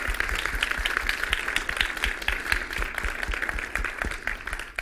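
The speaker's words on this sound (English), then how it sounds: "Please give our panel a big round of applause." A conference audience at DevConf claps for a panel, a moderate, fairly distant patter of applause that swells slightly and then thins out over a few seconds.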